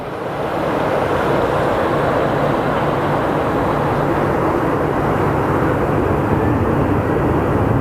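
A Southwest airliner pushing back at Phoenix Sky Harbor Airport gives a loud, steady jet engine roar with a broad rushing hum that stays constant throughout, with no voices.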